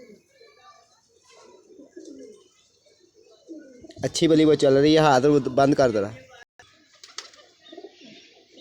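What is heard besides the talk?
flying pigeons cooing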